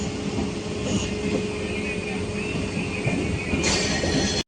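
Train noise at Majerhat railway station in Kolkata, a steady rumble with rail and wheel sounds running the whole time and a brief squeal near the end. Faint voices blend into the busy station din.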